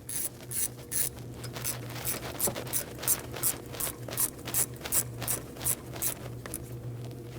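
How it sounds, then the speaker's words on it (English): Bolts on the high pressure fuel pump of a 2013-2019 Ford Escape 1.5L four-cylinder are tightened with a ratchet, giving a steady run of close, rhythmic mechanical clicks with no talk. "Tighten your bolts down by hand first."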